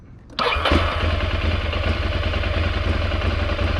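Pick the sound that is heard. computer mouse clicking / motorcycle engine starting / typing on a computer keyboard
motorcycle engine starting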